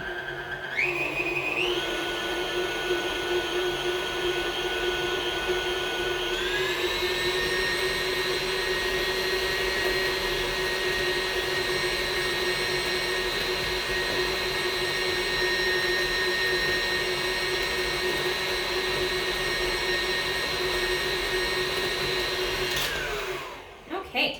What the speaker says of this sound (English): I'm just going to whisk it 1 more time to make sure that if there were any chunks that those get mixed in.